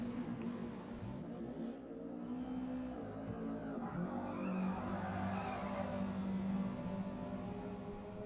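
Spec Honda Civic EP3 race cars in Forza run wheel-to-wheel, engines droning steadily with tire noise rising as one powers past on the outside, continuous and fairly loud throughout.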